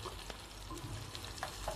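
Garlic and coriander fry in a spoonful of melted ghee for green molokhia, giving a quiet, steady sizzle broken by faint stirring scrapes, with no talking.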